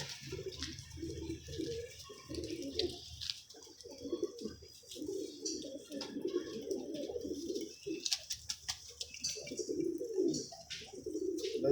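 Flock of pigeons cooing close by, overlapping soft throaty coos that swell and fade over wing flutters and faint background chirps.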